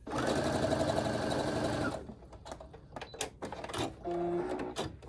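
A sewing machine stitching quilt strips runs in a steady loud burst for two seconds, then stops and starts in short clattering spurts with clicks and a brief whine, close by.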